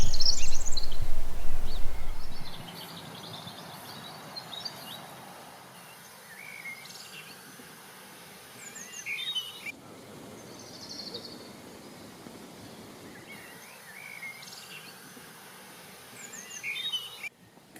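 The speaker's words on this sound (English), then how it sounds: "Sunshine and a bird's chorus." Morning bird chorus at a small campsite in Benllech, Anglesey, in May: scattered high chirps and calls from several birds at a distance over a soft outdoor hum, with a louder low rumble at the very start.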